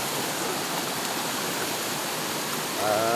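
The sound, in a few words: river water flowing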